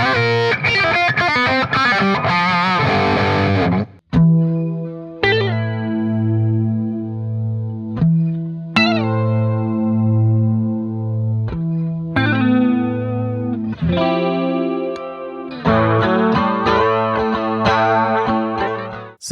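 Electric guitar played through effects with chorus and distortion, switching between pickups: sustained chords and ringing notes, loud and close, with brief breaks where the tone changes, no talking.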